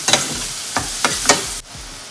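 Onion and garlic cooking in a pan for salmon, a soft continuous sizzle broken by a few sharp scraping stirs, then the sound drops away abruptly near the end.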